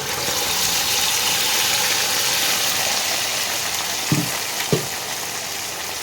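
A paste of boiled tomato, ginger and green chili fries in a pan for a raw jackfruit paneer curry, giving a steady, even sizzle throughout, with two short knocks near the end and no talking.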